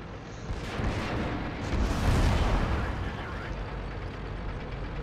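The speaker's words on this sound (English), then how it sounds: "And then I get hit by an artillery unit as soon as I shoot at this guy" An artillery shell strikes a tank in World of Tanks, a broad rumbling blast that swells and rolls for several seconds over dense low noise, loud and close.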